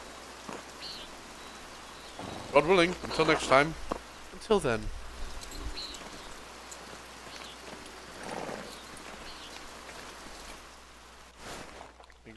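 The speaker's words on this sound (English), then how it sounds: "I hope this rain lets up for you soon." Steady rain falls in the medieval village setting of the video game Pentiment, a soft continuous hiss running throughout while a few voices speak over it near the start.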